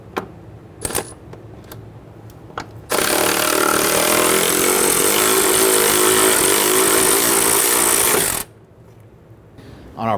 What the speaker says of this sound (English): We're just going to switch over to our power tool here to speed things up.